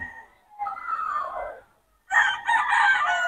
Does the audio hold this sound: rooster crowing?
yes